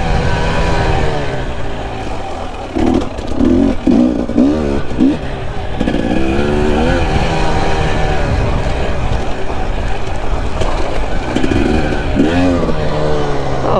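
A 2020 KTM 300 XC-W TPI two-stroke enduro motorcycle ridden on a trail, its engine droning loud and steady with rising and falling revs throughout, close to the rider.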